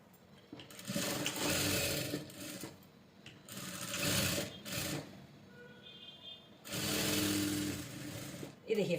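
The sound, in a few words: sewing machine stitching fitting on floral gown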